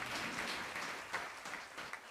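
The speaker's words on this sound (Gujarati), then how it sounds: "ત્યાગ સ્વામીને ફરી એકવાર હાથ ઊંચા કરી તાળીઓના નાદથી વધાવો બધા" Audience applause at a Swaminarayan devotional gathering during the Chaitri Samaiyo festival, a steady wash of many hands clapping together, moderately distant and sustained throughout without talk.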